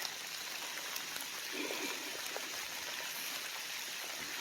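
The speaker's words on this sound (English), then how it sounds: "where water starts to come down right here" Rainwater runs down the ground near a tree during heavy rain, a steady close hiss of flowing and trickling water that continues evenly throughout without talk.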